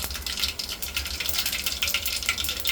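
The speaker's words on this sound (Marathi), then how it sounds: "आता आपण जिरे घालून घेऊयात" Cumin seeds sizzle in hot oil after mustard seeds for a plain traditional varan phal, a close, busy fizz of small crackles layered over a steady frying hiss.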